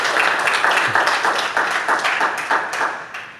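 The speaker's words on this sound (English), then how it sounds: "I think a round of applause first." An audience at a talk on open source contribution in business gives a round of applause, loud close clapping with distinct individual claps that slowly tapers off, with no talking.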